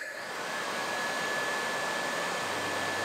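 An electric radiator fan motor fitted to a Honda CX500 motorcycle spins up and then runs with a steady, close whooshing rush of air.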